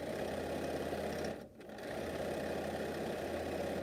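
A sewing machine runs steadily with a continuous mechanical hum and rapid stitching rattle, briefly dipping and pausing near the middle before resuming at the same even pace.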